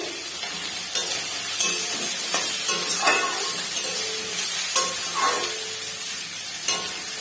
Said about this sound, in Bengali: তেলের উপর দিয়েছি তো একদম সামান্য, এটুকুতেই হয়ে যাবে ভেন্ডি ফ্রাই